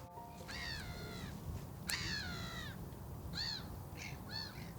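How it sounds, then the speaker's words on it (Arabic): Gulls call out in several drawn-out, wailing cries, some overlapping, heard fairly faintly over a low background rumble. "هاي اصوات النوارس موجوده"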